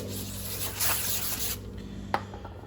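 Brake cleaner sprays in a short hissing burst onto a new front brake rotor of a 2011 Toyota Sienna, up close, followed by faint dripping and a small knock.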